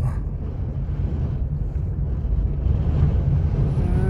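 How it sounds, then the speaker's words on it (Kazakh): Strong wind in Taraz buffets the microphone in a deep, continuous roaring rumble, loud and unbroken, with no voices. "Страшно жел болып кетті оның аяқ астына"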